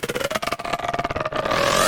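A singing voice passed through a heavily cranked chorus effect, warped into a wobbling, pulsing, metallic tone with a rapid rhythmic flutter that smears into a thick, sustained wash toward the end.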